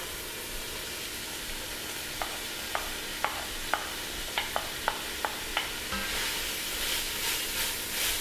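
Two carrots tipped into a soup pot of softened onion, sizzling steadily while a spoon stirs with a run of sharp clicking taps against the pot, the hiss swelling louder near the end.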